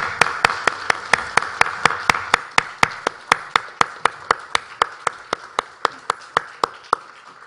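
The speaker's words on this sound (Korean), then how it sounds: "하나님께 영광의 박수를 올려드리겠습니다." A church congregation claps in a steady, even rhythm, about two to three claps per second, loud and close, keeping a uniform beat from start to finish with no voices.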